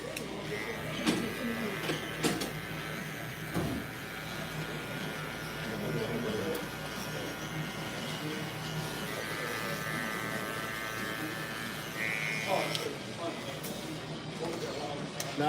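Hair clippers fitted with a one guard cut a fade, buzzing steadily at close range throughout with light background talk and movement.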